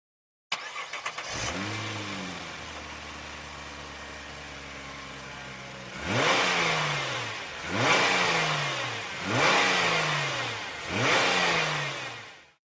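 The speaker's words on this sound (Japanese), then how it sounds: "R35 のエンジン音はこんな感じです。" A 2015 Nissan GT-R R35 engine starts, settles into a steady idle, then revs hard four times in quick succession, each rev rising and falling, loud and close.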